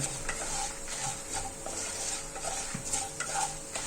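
Cashews, chana dal and urad dal roast in hot oil for mint rice. A soft, continuous sizzle runs under repeated light stirring scrapes and taps of a spoon in the pan, close by and fairly quiet.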